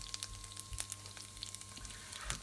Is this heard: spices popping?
yes